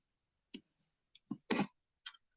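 Paper being cut in two with scissors while making a handmade holiday gift tag: a few short, crisp snips and clicks spaced apart, close and fairly quiet, with no talking.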